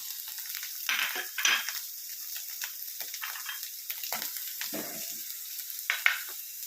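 Onion frying in oil in a pan, a soft, close crackling sizzle with irregular bursts and small pops, continuing steadily without speech.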